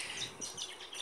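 Faint, high birds chirp outdoors in the early morning, a quiet scatter of brief calls carried over light wind.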